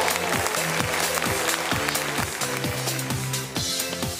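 An audience applauds an artist at the close of the Yokosuka Innovation Music Audition 2018, a dense, sustained wash of clapping with music or a low tonal pattern beneath it.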